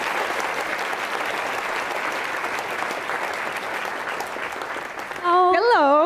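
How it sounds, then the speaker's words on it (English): A conference audience at A MAZE. Berlin gives a speaker another round of applause, steady clapping across the room that fades near the end as a voice starts speaking close to the microphone. "Please give them another round of applause."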